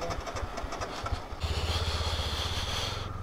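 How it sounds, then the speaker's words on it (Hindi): A cold motorcycle engine, struggling to hold a slow idle in snow at Sela Pass near Tawang, runs unevenly at first and then settles into a steadier, louder, close throbbing idle. "और बाइक को ठंड लग गई है, स्लो रनिंग में बैठ नहीं रहा है"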